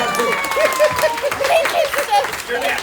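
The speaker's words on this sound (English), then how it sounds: "Give him a little round of applause" Comedy show audience on a Carnival cruise clapping in a steady patter, with voices calling and talking loudly over the applause throughout.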